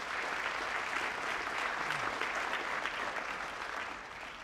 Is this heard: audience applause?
yes